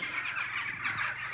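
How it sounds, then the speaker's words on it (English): Crows caw faintly in the distance at a certificated caravan site near Jedburgh, harsh calls sitting in a steady outdoor hiss. "If it wasn't for the crows, it'd be really quiet."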